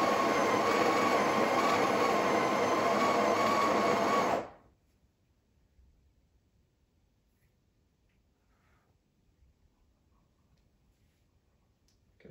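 A Breville Barista Express BES870 grinds coffee beans in a loud, steady burr whir lasting about four seconds, then cuts off abruptly, leaving near silence with faint handling noises.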